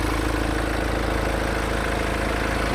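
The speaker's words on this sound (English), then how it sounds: "Stable sound. I guess the engine is very fine, very good." A 2015 BMW X4 20d xDrive diesel idles steadily and evenly with a low, continuous rumble and fine vibration, heard up close with no other sounds.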